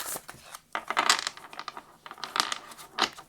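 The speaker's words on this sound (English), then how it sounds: "Let's do one more shuffle here." A deck of tarot cards being shuffled during a reading, giving several bursts of crisp, riffling card clatter close to the microphone, with brief pauses between the bursts.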